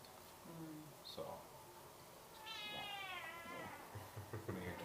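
A cat meows under people talking in a meeting room, with a drawn-out, wavering meow near the middle, fairly close and moderately loud.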